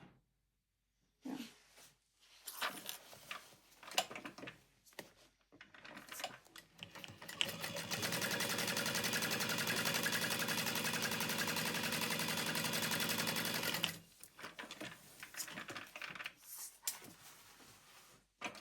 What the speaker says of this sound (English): We're going to sew the bottom shut